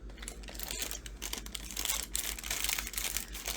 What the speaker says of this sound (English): let's just cut one of these bags open just to see.